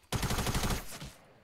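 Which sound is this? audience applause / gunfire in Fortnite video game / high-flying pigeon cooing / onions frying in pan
gunfire in Fortnite video game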